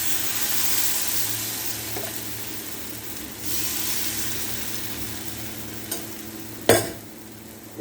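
Handvo batter poured into hot oil tempered with mustard seeds, cumin and asafoetida gives a soft, steady sizzle with a few sharp clicks and a louder crackle burst near the end.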